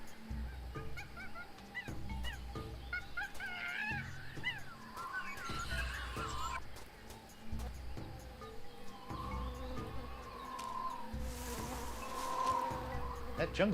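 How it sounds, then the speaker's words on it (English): Bees buzz steadily through the noisy jungle of the Tales of Monkey Island video game, a continuous insect drone layered with chattering animal and bird calls and a low pulsing background, with no talking. "That's bees, I hear."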